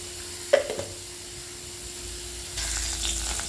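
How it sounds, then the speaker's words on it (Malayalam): Mustard seeds hit hot oil in a wok-style pan, just two spoons of oil: a faint steady sizzle with a couple of sharp crackling pops early on, then the hiss swells louder toward the end. "കടുക് പൊട്ടി"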